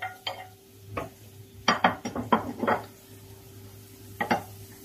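Garlic being stirred in a cooking pan, heard as a series of scraping, clinking utensil strokes, some quick clusters, with a faint steady hum behind.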